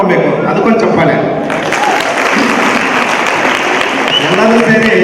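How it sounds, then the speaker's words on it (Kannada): An audience at a 50th birthday golden jubilee celebration for Rev. Dr. K.M. Sathish breaks into loud, close applause that carries on steadily, with voices mixed in beneath the clapping. "ಅದಕ್ಕೊಂದು ಚಪ್ಪಾಳೆ"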